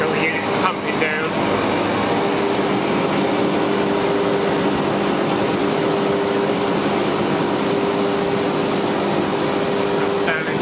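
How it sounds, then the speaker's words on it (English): Fabdec refrigeration units under repair run while pumping down into vacuum, a loud, steady mechanical drone with a constant tonal hum that holds unchanged throughout, with a few faint clicks near the start and end. "I got the units pumping down."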